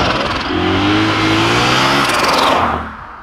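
A BMW E92 M3 with an ESS 650 supercharger revs hard and close. The engine note climbs in rising harmonic sweeps for about two seconds, then drops away as the throttle closes.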